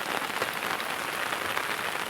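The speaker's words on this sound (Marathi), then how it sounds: "एवढा पाऊस लागतोय" Heavy rain pours steadily near a flooding river in the Konkan, a dense, loud, even hiss of drops striking surfaces with no pauses.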